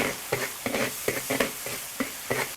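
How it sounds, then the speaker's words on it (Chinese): Doubanjiang, ginger, scallion and chili stir-fry in a wok, with a steady sizzle broken by quick, rhythmic scrapes and clatters of the spatula, heard up close and without speech. "给它炒香哈"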